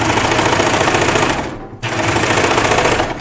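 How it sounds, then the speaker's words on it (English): A sewing machine cabinet table rattles and vibrates in a rapid, dense mechanical chatter, loud and close, stopping briefly once before running on again. "This table vibrates. That's what you're hearing."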